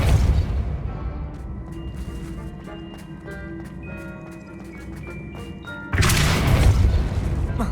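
A Depulso spell in the video game Hogwarts Legacy lands as a loud, booming impact burst near the end, following a stretch of layered game ambience and effects.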